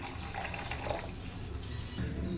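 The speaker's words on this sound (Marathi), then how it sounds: "गरम पाणी टाकून द्यायचं" Hot water pours steadily into a pan of sev bhaji curry with a continuous splashing, bubbling rush, close and fairly loud, no voices.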